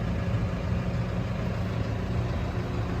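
New Holland T4.95 tractor engine idling steadily with a deep low rumble, continuous and close, no voices over it.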